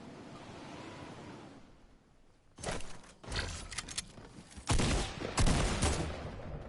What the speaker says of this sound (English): Oh, stop shooting at me.